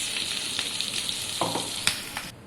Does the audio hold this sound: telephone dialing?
no